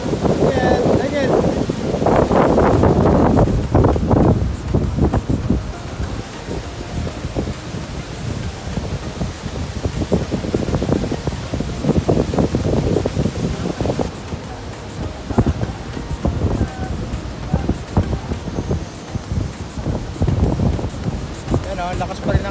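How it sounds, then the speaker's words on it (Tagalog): Strong gusty wind buffets the microphone over a constant rushing wash of surf at Station 2 beach, Boracay, loud and continuous throughout. "lakas pa rin ang hangin sa ang alon"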